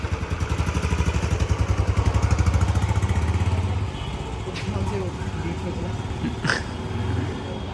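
A new Royal Enfield Bullet motorcycle engine with kick start idles with a rapid, chugging pulse that loudens, then settles lower, with voices talking over it.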